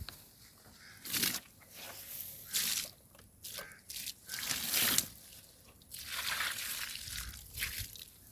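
Liquid pours in several separate bursts, each a splashy gush lasting about a second, with short quiet gaps between them, close by.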